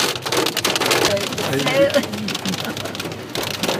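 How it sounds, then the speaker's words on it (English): Hail pelting a car during a drive in the Colorado Rocky Mountains in August, a dense, close drumming on the body and roof, with people talking inside. "It's hailing in."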